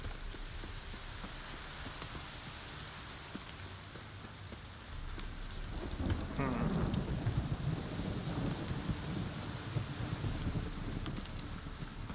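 Steady rain in The Witcher 3: Wild Hunt patters on a surface, growing heavier partway through with a denser, rumbling wash of drops, no voices.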